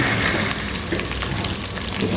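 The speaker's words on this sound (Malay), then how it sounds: "Tumis sebentar sampai dia naik bau." Spices sizzle steadily in a hot pan for belacan curry, a continuous frying hiss that holds at an even level throughout, with no talk over it.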